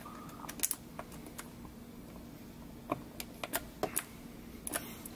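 Scattered sharp clicks of keys being pressed on a mechanical keyboard fitted with newly installed switches, close but fairly quiet, irregular and sparse against a faint room hum.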